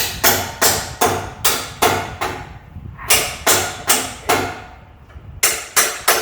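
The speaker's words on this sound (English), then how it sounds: "if you have a stuck nut or bolt, you can shock them loose" A hammer strikes hard on a stuck nut or bolt during a 5.0 engine swap: about fourteen loud, sharp metallic blows in a quick, even rhythm, with one brief pause.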